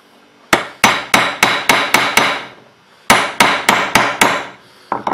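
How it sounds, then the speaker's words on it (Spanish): Hammer blows strike a spark plug to loosen its ceramic insulator, landing as two sharp metallic bursts of about seven rapid, evenly spaced strikes each, with a brief pause between the bursts and one more hit at the end. "Posteriormente le damos unos golpes"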